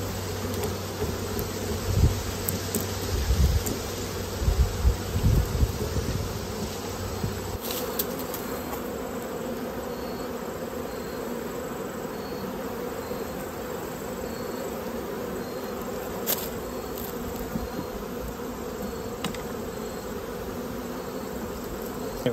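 Bees hum steadily inside an open beehive, a dense continuous drone close by, with a few knocks and rustles from handling frames early on.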